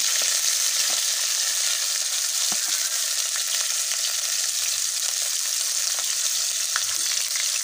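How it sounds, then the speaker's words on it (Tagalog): Leftover food reheats in a pan with a steady, close sizzle, and faint scrapes and ticks of stirring come through now and then. No one speaks. "So, yung leftover na ulam, initin natin."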